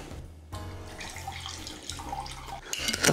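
Apple cider vinegar poured from a bottle into a measuring jug in a kitchen, a short steady trickling stream with faint splashing, close and fairly quiet.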